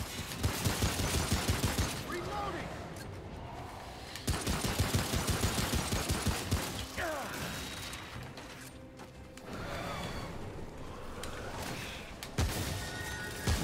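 Mortar fire in the video game Remnant comes as repeated rapid barrages of blasts and crashes, each lasting a couple of seconds, separated by short lulls.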